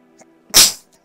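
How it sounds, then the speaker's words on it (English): A single sharp, loud sneeze bursts out from close by, sudden and brief, after a moment of near silence. "Just sneeze."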